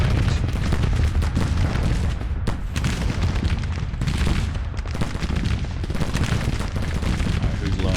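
Sharpshooters fire at long range in the Civil War strategy game Grand Tactician: Civil War, with dense, continuous musket fire and booming rumble, loud and sustained throughout.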